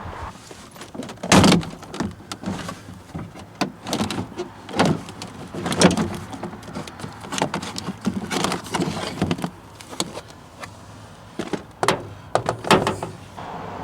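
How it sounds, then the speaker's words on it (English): Plastic door panel being pried and pulled off the inside of a van door during a power window repair, with repeated close clicks, knocks and rattling thunks in an irregular rhythm and no talking. "getting ready to take the door panel off here and see what happened to the window"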